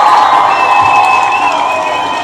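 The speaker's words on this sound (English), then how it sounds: "let's give what's his brother Lex a round of applause" A crowd briefly cheers and applauds, loud and close, easing slightly by the end.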